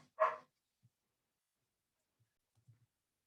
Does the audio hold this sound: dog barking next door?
yes